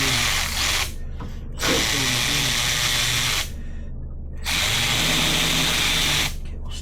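A power tool snugging 10 mm bolts on a turbo downpipe during an FRS turbo kit install, heard as loud, close whirring bursts of a second or two each, separated by short pauses.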